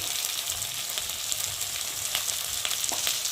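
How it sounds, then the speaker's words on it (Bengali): Chopped tomato with salt and turmeric frying in oil with mustard for a tilapia curry masala, a steady close sizzle broken by occasional stirring clicks. "দিয়ে মশলাটা ভালো করে কষিয়ে নেবো"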